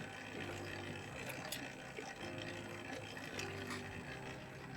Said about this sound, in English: We add very slowly the oil inside of our mixer